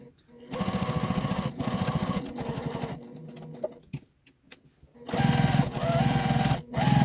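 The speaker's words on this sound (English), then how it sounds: "now I'm just going to stitch right around the edge of this." A home sewing machine stitches around the edge of a small quilted mug rug in steady whirring bursts, pausing in the middle, with a voice speaking softly over the quieter gaps.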